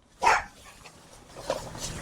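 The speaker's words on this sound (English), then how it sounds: "we got puppies in here" Puppies inside a small apartment give a sharp yelp followed by softer whimpers and yips, close by and fairly quiet, with no clear talking.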